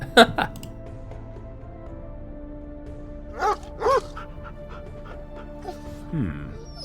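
A dog in the Lost Horizon video game gives a few short yips and whimpering sounds in a quiet courtyard, brief separate bursts over a faint steady hum.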